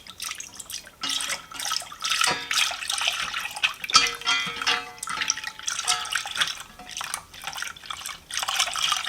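Milk is poured into a pot of maple ginger pudding in a continuous bubbling, splashing trickle that rises and falls in intensity, close and moderately loud, with no voices.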